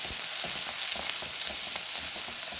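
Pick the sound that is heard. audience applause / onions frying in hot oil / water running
onions frying in hot oil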